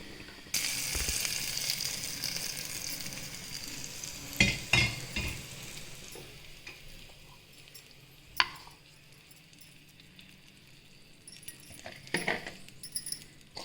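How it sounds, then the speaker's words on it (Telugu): Tempering spices sizzle and crackle in hot oil until reddened, with occasional sharp clinks of a spoon stirring against the pan. "ఇవి కొంచెం రెడ్ కలర్లో వచ్చే వరకు ఫ్రై చేసుకోవాలి."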